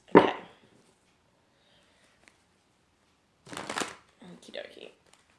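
Tarot cards are shuffled in short riffling bursts: one sharp close shuffle at the start, then two rustling bursts after a quiet gap.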